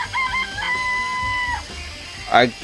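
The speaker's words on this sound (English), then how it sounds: "I remember there were some chickens in the chicken coop." Chickens in a coop within the Danganronpa video game give a clear rising-and-held crowing call, then a short squawk near the end, loud and close with no talk over it.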